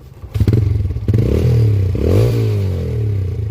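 A motorcycle ridden on a hiking trail runs close by, its engine throbbing and revving unevenly over rattles and clatter, with no voices.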